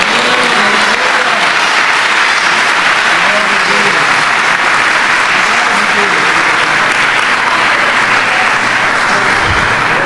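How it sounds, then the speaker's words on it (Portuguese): A church congregation applauds loudly and continuously for about ten seconds, a dense sustained wash of clapping from many hands with crowd noise mixed in. "Você pode aplaudir a Jesus?"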